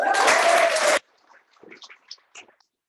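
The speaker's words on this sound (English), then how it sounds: "Let's start off with a round of applause though." A short burst of loud applause from a meeting audience cuts off abruptly, followed by a few faint scattered sounds in near silence.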